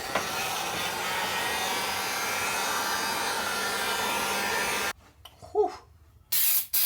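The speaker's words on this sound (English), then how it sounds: "Got the heat gun ready." A heat gun blows with a steady, close, loud rushing hiss for several seconds, then cuts off, leaving a few faint handling noises and a short burst of noise near the end.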